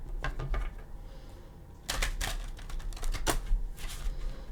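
Tarot cards are shuffled up close in a few quick riffling bursts, with short pauses between, crisp and fairly quiet against a soft background.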